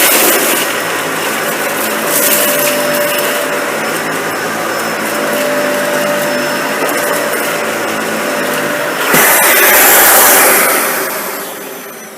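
A Dyson Ball Animal 2 upright vacuum running with its brush roll on, a loud, steady whooshing whine with a faint tone, swelling briefly near the end as it shifts, no voices.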